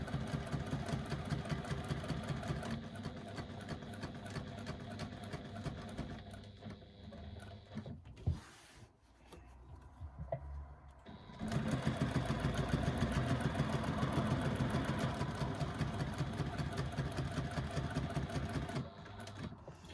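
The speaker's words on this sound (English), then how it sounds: "I'm just back stitching at the beginning to secure my stitches" A sewing machine back stitches along the bottom edge of fabric, a close, busy mechanical whir that runs steadily, drops out briefly in the middle with a few clicks, then resumes strongly and continues to the end.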